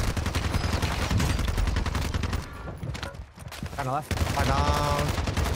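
Sustained dense gunfire in Warzone 2, with steady rapid shots dropping out briefly before resuming loudly, while a player speaks over the shooting.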